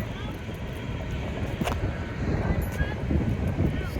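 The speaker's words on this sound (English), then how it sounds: "It's extremely windy because we have a storm coming in." Strong gusting wind ahead of an incoming storm buffets the microphone outdoors, a steady broadband roar that swells and eases over a few seconds.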